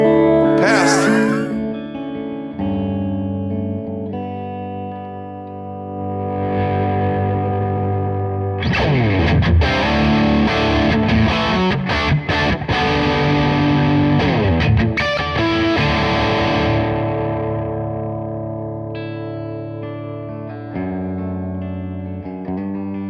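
An electric guitar played through a Bad Cat Black Cat 30 tube amp in a demo, with sustained overdriven chords and a busier, louder strummed passage in the middle that eases back to ringing chords, with no talking over the playing.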